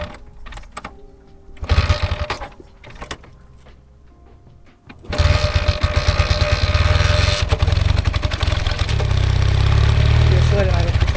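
A vintage Honda or Suzuki motorcycle engine, with a few kick-start attempts and sputters before it catches and settles into a loud, steady, close idle, with voices talking briefly.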